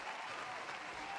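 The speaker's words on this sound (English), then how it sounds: "let's give him a big round of applause" An audience applauds to welcome a speaker at a trades workforce presentation. The clapping is a steady, dense wash that fills the whole brief moment at a fairly soft level.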